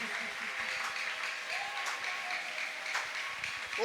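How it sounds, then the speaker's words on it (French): A church congregation applauding for the Lord, soft steady clapping heard at a distance under a faint murmur of voices and some reverberant room tone. "Acclamez très fort pour le Seigneur Jésus-Christ."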